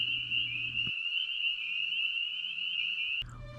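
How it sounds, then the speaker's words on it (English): At a pond in upstate New York, frogs call in a steady high trilling chorus, with a deeper croaking bass from bullfrogs breaking in briefly at the start and end, moderately loud and close. "the spring peepers were on soprano and the bullfrogs carried the bass line"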